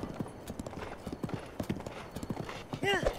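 Horse hooves clip-clopping in a steady, quick rhythm while riding in Zelda: Breath of the Wild, fairly close, with a brief whinny near the end and a voice talking over the top.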